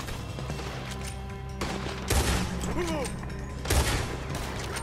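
Gunfire in Red Dead Redemption 2 during a shootout, with steady rapid crackling shots, heavier booming volleys, and game characters calling out faintly underneath.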